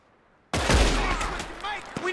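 A sudden burst of rapid gunfire in Red Dead Redemption 2 during a train robbery erupts after a moment of quiet, loud and booming with rattling shots and echoing tails.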